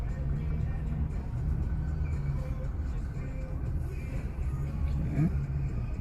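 A Citroën C3 driven by a first-time learner gives a low, steady engine rumble from inside the cabin with slight revving. The sound continues throughout, with soft speech underneath.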